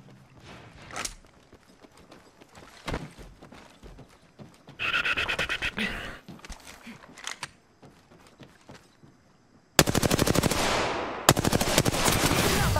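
Peacekeeper shotgun fire in the Apex Legends battle royale game, with scattered sharp shots and game effects, then sustained loud bursts of gunfire near the end.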